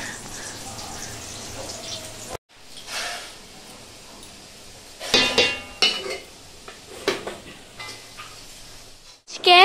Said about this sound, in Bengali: এটা হচ্ছে মহারাজা হাঁড়ি, অনেক বড় হাঁড়ি।